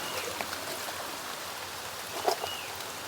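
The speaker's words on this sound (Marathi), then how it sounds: "कारण पाऊस आला आहे" Soft, steady patter of rain falling near a flowing stream in a Konkan village, a low continuous wash with one brief louder splash or drip near the end, no voices.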